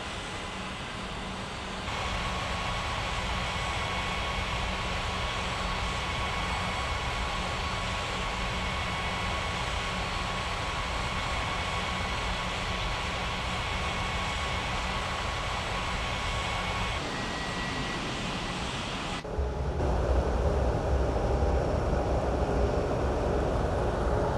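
Aircraft engines in an air traffic control video game produce a steady, continuous drone. The tone shifts abruptly partway through.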